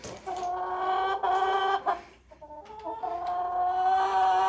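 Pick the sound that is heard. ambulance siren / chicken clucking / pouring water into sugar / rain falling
chicken clucking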